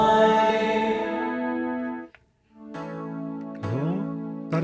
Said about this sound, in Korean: 20으로 다시 가서 리버브를 한번 들어보겠습니다.